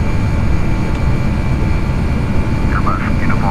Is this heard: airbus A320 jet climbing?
yes